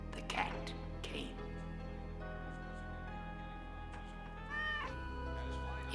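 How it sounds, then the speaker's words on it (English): A cat meows in a film scene, two clear meows early and another drawn-out one near the end, over a low sustained ambient drone and faint background voices. "Then the cat came."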